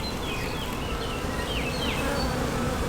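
Dense, constant buzzing of many honey bees around an open hive, a loud steady drone with occasional higher whines from individual bees flying close past.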